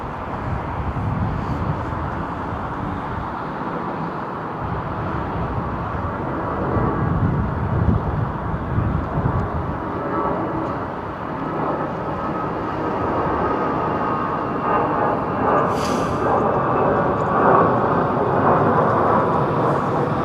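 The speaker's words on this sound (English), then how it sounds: "Is this the Qatar 777-200 freighter? This thing's going to go up very quick" A Qatar Boeing 777-200 freighter takes off at London Heathrow, a loud, steady broadband jet roar that holds for about twenty seconds and swells slightly toward the end.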